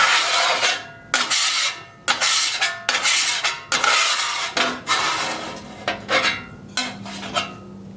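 A square chopper-scraper scrapes a flat-top Camp Chef Sidekick griddle clean, metal dragging on metal in about a dozen short, loud strokes with brief gaps, close up and with no talking.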